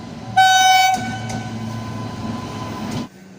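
The Lalkuan Amritsar Express 14615 sounds a loud, sustained horn blast, then rolls on with a steady rumbling drone that fades at the end.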